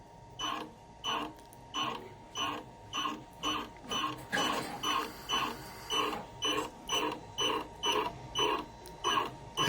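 Kingmax GT1900BH electronic bar tacker jogged step by step, giving a regular series of about sixteen short, even mechanical whirring pulses, each roughly half a second long, close and moderately loud with no speech.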